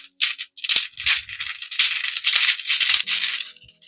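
Hair beads clicking and rattling together as cornrows are undone by hand, a close, busy run of bright clattering bursts with short pauses between.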